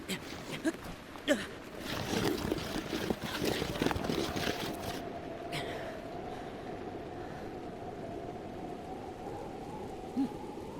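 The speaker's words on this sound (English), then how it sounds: "rain should be stopping" Rain falling in the video game Zelda Breath of the Wild, a steady hiss of rain with scattered drops and a low hum running beneath, as the downpour thins partway through.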